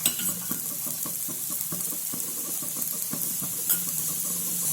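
Thalipeeth, a thick millet flatbread, roasts in ghee on a pan with a steady close sizzle, mixed with scraping and light clinks of a spatula against the metal.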